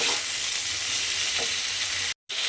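Spiced tomato and cauliflower masala fries in a pan with a steady, close broadband sizzle, broken by faint stirring scrapes and one brief dropout near the end; no one speaks.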